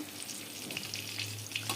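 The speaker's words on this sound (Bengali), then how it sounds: "এখন শেষ 4টি পটল ভেজে নেব।" Four pointed gourds (potol) frying in hot oil seasoned with salt and turmeric, giving a steady close sizzle with faint crackles, no talk.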